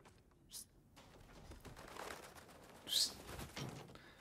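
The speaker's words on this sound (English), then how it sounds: "They're Odin's crows." Odin's crows in the video game God of War Ragnarok make a few brief, scattered bird calls and fluttering sounds over quiet game ambience, with no speech.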